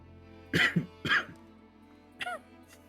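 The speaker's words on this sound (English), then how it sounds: "you can hear that, like, smoker's cough in the laugh" Two rough, raspy smoker's coughing bursts close together within a laugh, followed by a shorter throaty hack, with quiet pauses between.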